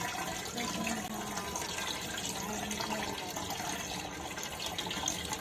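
Water from soaked wheat paste for kurdai drains through a double-tied cloth into a container as the paste is stirred round by hand, a steady close trickle and slosh that runs continuously without talk.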